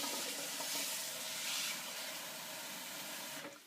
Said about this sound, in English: you take them to the tap and refresh them with cold water